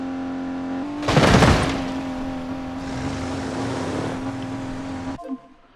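A video-game vehicle engine drones at a steady pitch, with a loud roaring whoosh early on, then a sustained hum that cuts off abruptly near the end.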